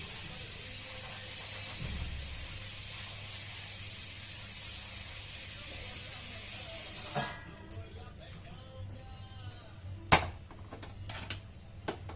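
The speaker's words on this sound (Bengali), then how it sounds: "এই পাতাকপি গুলো আমি একটু ভাপিয়ে নেব জলে, অল্প জল দিয়ে ভাপিয়ে নেব কড়াই।" Cabbage steams with a little water in a wok, giving a steady soft hiss that stops partway through and gives way to faint clinks and a sharp utensil clatter.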